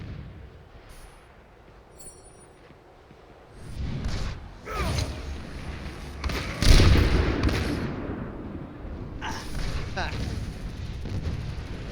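Doomfist's Meteor Strike landing in an Overwatch match, a heavy booming impact that swells up among other in-game explosions and gunfire, with a loud thudding peak and a rumbling tail under excited voices.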